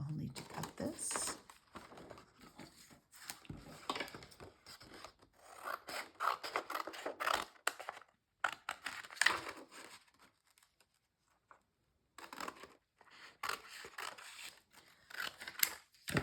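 Thin, good-quality paper being cut for a Halloween card: close, dry rasping snips and scrapes in uneven bursts, with short quiet gaps between runs of cutting.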